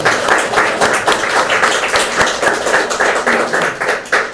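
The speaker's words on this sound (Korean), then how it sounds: "감사의 박수를 부탁드립니다" Congregation applauding in thanks at the close of a church faith retreat, dense steady clapping from many hands filling the room throughout, fairly loud with no speech over it.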